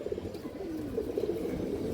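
A silver makra male pigeon coos softly in a low rolling warble, faint and continuous against a light background hum, with no talking.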